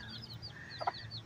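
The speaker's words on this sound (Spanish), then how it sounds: "Bienvenidos a un día de gallos, miren" Chickens cluck softly while chicks and a hen are fed, with a few short calls and chirps over a quiet outdoor background and one brief louder cluck near the end.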